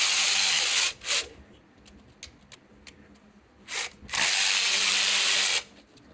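A power tool spins out E10 oil pan bolts on a Chevrolet Cruze in two loud, sustained whirring bursts near the start and end. Lighter clicks and handling noises fill the gap between them.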